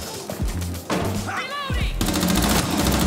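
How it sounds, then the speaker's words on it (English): Gunfire in Rainbow 6 Siege: loud, rapid shots and impacts crowd the short span, mixed with game effects and a voice speaking under the shooting. "Who's shooting?"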